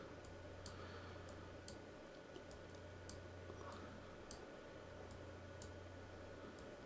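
Mouse clicks while action cards are dragged in the LackeyCCG card game software, a series of faint, sharp ticks spaced irregularly over a low steady hum, close and quiet.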